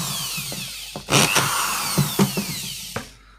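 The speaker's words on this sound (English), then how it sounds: "I'll drill a few extra in the lid just to make sure." A power drill whines in short bursts, with several sharp grinding spikes as the bit bites through a plastic lid, close and fairly loud.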